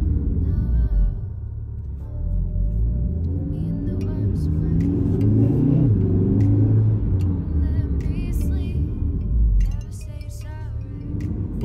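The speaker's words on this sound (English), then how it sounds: "everything's stock except the resonator delete, and obviously it does have a bit of a sound difference from the pure stock" A stock VW Golf R MK7 with a resonator delete rumbles as its engine runs, a low steady drone with slight swells in pitch and some clinking, heard from inside the car.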